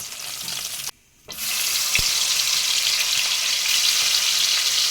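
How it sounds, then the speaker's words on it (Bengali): Loud, continuous sizzling of paneer frying in hot oil, briefly dipping quiet near the start before surging back, with a single utensil tap. "বাকি পনিরগুলো আমি এইভাবে ভেজে নিচ্ছি"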